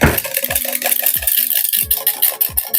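A whisk beating food in a bowl, with clear rhythmic scraping strokes about every half second, close and fairly loud, repeating with no voices.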